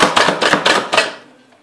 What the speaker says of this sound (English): Stick them in the slap chopper like this.